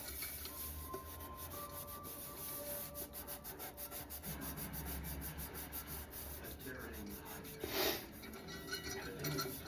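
Steady rubbing and scrubbing as stainless steel on used Revere Ware copper-bottom cookware is polished by hand, a continuous close rasping friction with rhythmic strokes and no talk.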